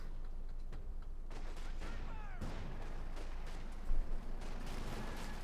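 Cannon and artillery fire in the video game Company of Heroes 2 sounds as scattered distant booms and bursts over a dense battle backdrop, with one louder blast near the end.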